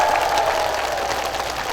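Audience applause for a conductor and orchestra at an outdoor concert stage in Angang, a dense steady wash of clapping holding evenly for the whole short stretch with no voices over it.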